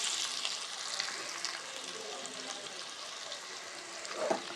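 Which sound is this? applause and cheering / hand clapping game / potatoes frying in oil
potatoes frying in oil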